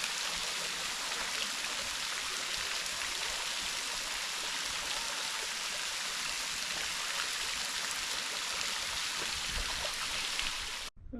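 Gorman Falls, a waterfall beside the Colorado River in a park, roars as a dense, constant hiss of falling water heard close up and alone, cutting off abruptly at the end.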